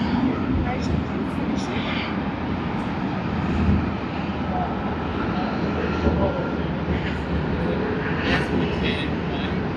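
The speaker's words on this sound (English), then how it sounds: "now we see Vietnam Airlines Airbus A350-900 on its way to Ho Chi Minh City" A Vietnam Airlines Airbus A350-900 departs Sydney Airport, its steady jet engine roar moderately distant and continuous, with someone talking over it.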